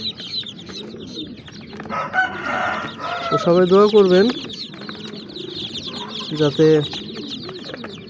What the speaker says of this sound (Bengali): এটা ফার্মের মুরগির বাচ্চা।